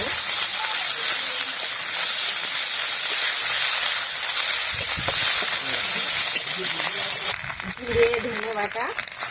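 Sliced onions frying in hot oil with garlic and ginger paste as a jackfruit and prawn curry begins: a steady, loud sizzling hiss with occasional scraping and stirring noises near the end.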